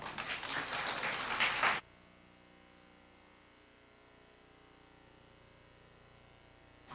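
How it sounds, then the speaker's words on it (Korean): A burst of applause from an audience at a church mothers' prayer meeting fills the first couple of seconds, then cuts off abruptly into a quiet, low electrical hum. "큰 박수로 맞이해 주시기 바랍니다"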